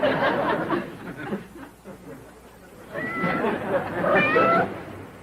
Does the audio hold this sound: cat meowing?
yes